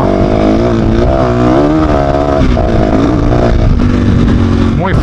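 A Fantic 450 Rally motorcycle with a 450 engine is ridden enduro-style off road, its loud engine droning and rising and falling in pitch close by, with a rider talking over it.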